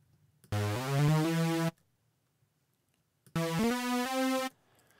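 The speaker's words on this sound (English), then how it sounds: "So here we can see the beginning of this rising synth." A synth riser built from the piano roll in Logic Pro X, heard as two separate bursts of bright buzzy tone, each sliding upward in stepped pitches for about a second before cutting off, with silence between them.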